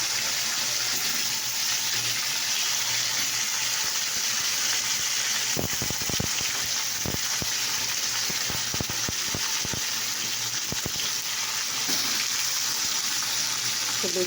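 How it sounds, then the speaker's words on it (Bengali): Fish frying in a pan of hot oil, giving a steady, loud, close hiss with bursts of sharp crackles and pops through the middle. "এরকম তেল গরম হয়ে গেছে দেখতে পাচ্ছ। এরকম মাছ আছে, তাদেরকে দিয়ে দিলাম মাছ।"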